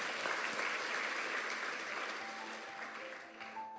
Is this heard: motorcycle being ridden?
no